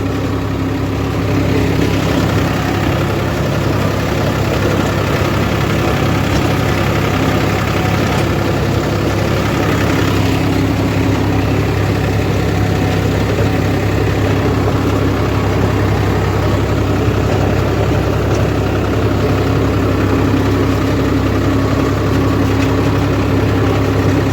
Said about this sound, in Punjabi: ਹੁਣ ਇੱਥੇ ਬਸ ਰੋਟਾਵੇਟਰ ਘਮਾਈ ਜਾਂਦੇ ਆ ਸਿਆੜ ਜੇ ਮਾਰਨ ਨੂੰ